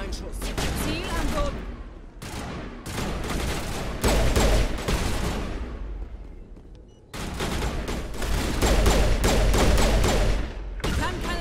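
Gunfire in the Mass Effect video game, dense bursts of rapid shots and volleys coming in loud waves with brief pauses between, close and harsh.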